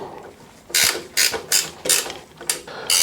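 A ratchet tightens the axle bolts on a three-wheeler in about six quick, close clicking bursts separated by short pauses.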